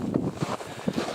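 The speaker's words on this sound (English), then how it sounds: "And it's windy." Wind blows steadily across the microphone at a cold winter camp site with a canvas tent, a continuous rough low rumble with gusty swells and no other clear sound.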